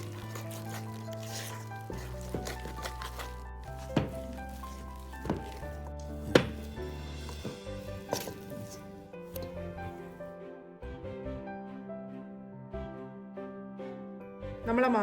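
Soft, wet squishing and sloshing as donut dough of milk, ghee, sugar and yeast is mixed by hand in a bowl, with irregular sticky pats and thuds over a faint low background hum.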